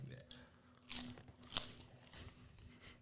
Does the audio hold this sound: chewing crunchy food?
yes